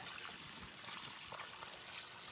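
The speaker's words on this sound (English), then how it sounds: "I just love to hear the sound of the waterfall." A backyard waterfall at an off-grid desert home burbles over rocks in a steady, close wash of trickling water that runs alone for the whole moment.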